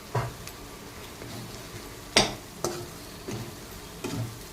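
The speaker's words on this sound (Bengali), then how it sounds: "মশলাটাকে আর একটু ভেজে নেব" Ground spices with Kashmiri chili powder and turmeric fry quietly in a pan, a soft sizzle broken by several sharp clicks and scrapes as a spoon stirs against the metal.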